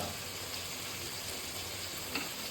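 Fish curry with turmeric and chilli cooks in a pan with a splash of water, a steady moderate sizzle throughout with a faint clink of a utensil near the end.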